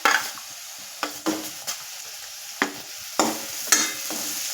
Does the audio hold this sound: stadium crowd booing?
no